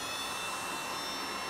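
A Bavaria BHA 2000/1 heat gun runs on its first, lowest setting, giving a steady, fairly quiet airy whoosh that holds evenly close by with no speech.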